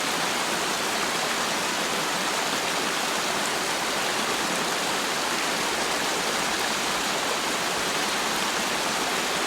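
A person wading across a backcountry stream, with steady broadband rushing water filling the whole clip at a constant level and no speech.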